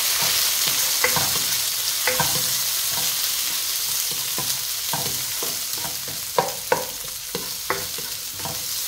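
Sliced onions sauté in a hot pan, a constant sizzle with a spatula scraping and stirring in repeated strokes, close and fairly loud, no voices.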